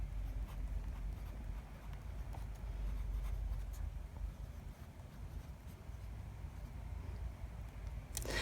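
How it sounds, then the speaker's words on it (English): A pen writes on paper, making faint, continuous soft scratching strokes against a low background hiss. "And you can see this pen writes beautifully"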